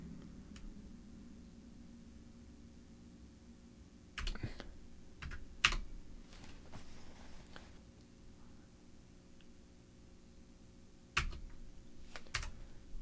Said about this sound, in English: Use the keyboard again to go down to yes and then hit enter.